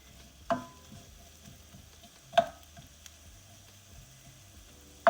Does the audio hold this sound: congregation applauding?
no